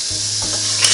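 Beyond Burger patties sizzle on a NuWave Primo grill oven, a loud, close, steady hiss of frying with a low hum underneath and a brief clink near the end.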